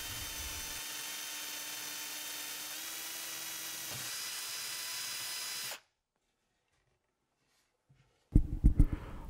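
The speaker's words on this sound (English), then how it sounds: "you're drilling straight down instead of getting your drill going on an angle" A high, steady drill whine runs for several seconds while drilling straight down into a surfskate deck, then cuts off into near silence before a few loud clunks and knocks.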